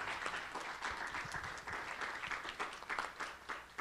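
Audience applause after a panel speaker at a journalism forum in Ciudad Juárez, a dense steady patter of many hands clapping at moderate distance, sustained throughout with no voices over it.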